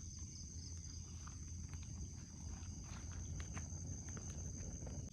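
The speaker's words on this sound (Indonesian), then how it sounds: "Kalian dengar suasana di malam hari dengan suara-suara jangkrik dan segala penghuni hutan atau kebun ini." Crickets and other night creatures chirr continuously in a durian orchard after dark, a dense, faint insect chorus with a high steady whine and scattered soft rustles.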